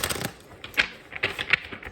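Tarot cards being shuffled by hand in a quiet room, giving a few soft riffling bursts and light papery slaps spread across the moment, close and fairly faint.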